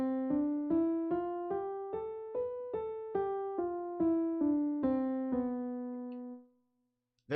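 Locrian scale played note by note up and then back down, about twelve evenly spaced plucked tones with a dark, tense character, clear and alone, ending in silence.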